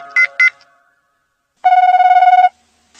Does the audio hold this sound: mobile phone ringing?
yes